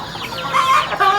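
Chicks and their mother hen cluck and chirp close by, a short burst of several rising and falling calls over faint background noise.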